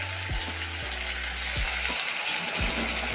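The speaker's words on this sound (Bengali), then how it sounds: "দেখো জিরে আদা বাটাটা দিচ্ছি" Vegetable curry with potatoes frying in a pan as cumin and ginger paste goes in, a steady close sizzle with several sharp bursts of spattering at intervals.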